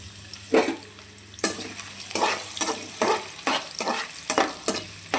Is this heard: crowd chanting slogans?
no